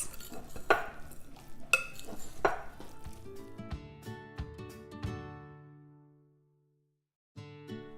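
Artichoke bruschetta topping with dried Parmesan mixed in a bowl: a few clinking knocks and scraping stirs of a utensil, fairly quiet and close, ending in a brief pause before a last clatter.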